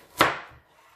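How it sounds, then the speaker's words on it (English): A knife slices through a carrot onto a chopping board while making minestrone soup, giving a single sharp, close, woody chop that decays quickly. "And then I'm going to slice them using the bridge cut."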